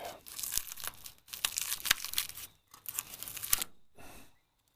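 Duct tape ripped away from the body of a 1964 Chevy C-10 Stepside truck, a few long crackling tears in bursts with brief pauses, close and fairly quiet, with no voices.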